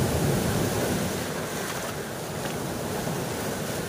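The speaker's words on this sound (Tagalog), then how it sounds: "Laki ng alon." Heavy ocean surf and wind roar continuously, a dense broad wash of big crashing waves close to the microphone, on a shore where fishing is underway.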